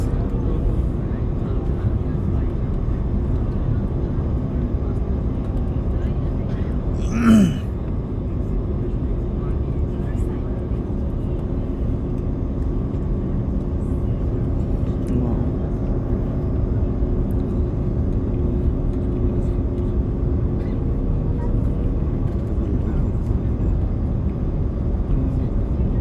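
Airliner cabin during descent into Kuala Lumpur International Airport: a constant loud engine and airflow roar fills the whole stretch, with one short sharp rustle or click near the start and faint voices buried in the drone.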